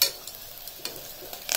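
Onions fry in a pan toward golden brown, giving a short burst of soft, steady sizzling with faint stirring scrapes, close and quiet, with no voices.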